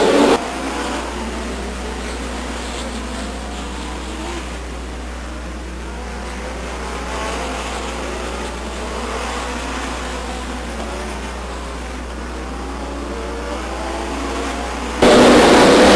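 Stock cars racing at Stockton 99 Speedway, a steady droning roar of engines circling the oval, held at an even level throughout before a sudden louder burst at the very end.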